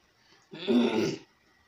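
A single short throat clearing, close to the microphone, a rough rasping burst in an otherwise quiet room.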